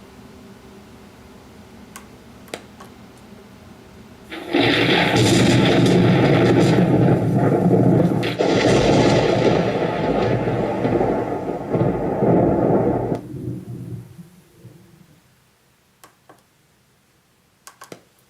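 A loud, sudden rumbling crash of thunder from a lightning scare sound-effect prop bursts in after quiet, roars steadily for several seconds, then fades away to near silence.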